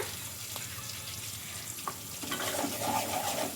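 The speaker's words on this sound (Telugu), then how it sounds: "ఇంకా ఈ పేస్ట్ కూడా వేసుకొని మొత్తం బాగా కలుపుకోవాలి" Masala paste tipped into a hot pan of frying ingredients for a Telugu home-style dish, then stirred, giving a steady close sizzle that swells with scraping and spoon movement toward the end.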